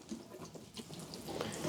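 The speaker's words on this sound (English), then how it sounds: "when you water it, you just want to sprinkle it" Water from a watering can sprinkles gently over a bonsai tree and its moss, a soft continuous patter and trickle heard up close for under two seconds.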